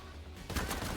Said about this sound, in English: So they're hearing gunfire.